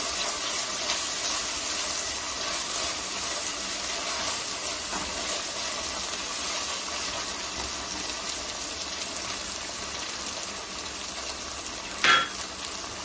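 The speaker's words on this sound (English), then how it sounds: "the ginger garlic paste has to be sauteed well" Ginger garlic paste sautéing in a pan for tomato rice, giving a steady, faint hiss and sizzle with one brief louder clatter near the end, no voices.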